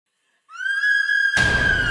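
A woman's sharp, high-pitched scream of terror rises suddenly after a moment of silence and holds steady, then a harsh burst of noise crashes in and continues beneath it, loud and close.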